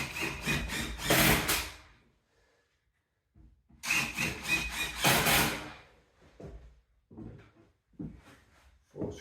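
Screws driven into a wooden wardrobe panel, two loud grinding bursts of a few seconds each separated by silence, then shorter creaks and knocks of the wood.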